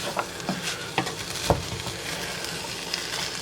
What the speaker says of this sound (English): small potatoes that I'm going to add in here. Get them sauteed.